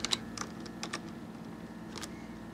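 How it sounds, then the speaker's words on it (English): A computer keyboard being typed on at a Linux login, with a quick run of close, crisp key clicks spread over a couple of seconds. "I'm just going to type in password"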